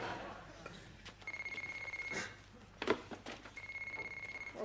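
A telephone rings in a British sitcom scene, a steady electronic trill repeating in two bursts with a pause between them, heard over faint room tone and a brief sharp knock.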